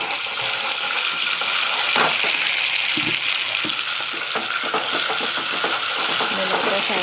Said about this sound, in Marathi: कांदे थोडे फ्राय झालेले आहे तर यामध्ये टाकत आहे मी अद्रक लसूणची पेस्ट.